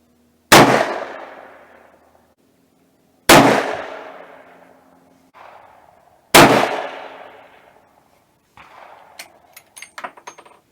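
Three loud rifle shots from a .300 Remington Ultra Magnum fired outdoors at a 325-yard target, each a sharp blast followed by a long rolling echo. The shots are spaced about three seconds apart, and faint clatter follows the last one.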